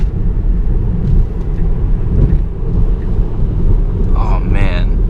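A 2018 Tesla Model 3 electric car accelerates and corners, with a steady low road and wind rumble filling the cabin and a few brief higher tones near the end; no engine note is present.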